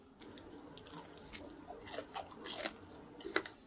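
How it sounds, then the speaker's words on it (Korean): Spicy tteokbokki, including brisket tteokbokki, is bitten and chewed up close, giving soft wet squishes and a few sharper crunchy bites in quiet, faint overall. "아, 한 입만 먹고 줄게."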